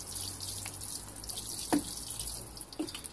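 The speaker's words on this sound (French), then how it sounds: "donc on arrose" Water trickles and spatters from a small watering can onto a vegetable garden, a steady soft pour with a few drips, close by and fairly quiet.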